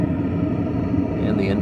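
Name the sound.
Vevor diesel heater exhaust combustion noise outside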